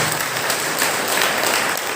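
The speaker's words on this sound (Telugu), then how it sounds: "చప్పట్లు కొడుతూ దేవుని స్తుతించుదామా." A church congregation claps together in praise during a Solemnity of Christ the King Mass, a dense, steady wash of many hands held at an even level throughout with no talking.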